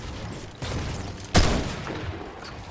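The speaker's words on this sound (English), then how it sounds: "I keep accidentally shooting." Gunfire in a ranked shooter video game, with a burst of shots starting around half a second in and a louder, sharper report about a second later, followed by continuing dense crackle; no talking.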